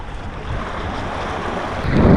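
Ocean waves wash against a sailboat under way at sea, a steady broadband rush with wind noise that swells louder toward the end as a wave passes.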